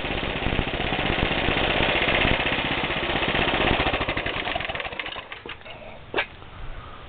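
A go-kart's small engine runs close by with a loud, rapid chugging putter that holds steady, then eases off toward the end with a brief mechanical clatter.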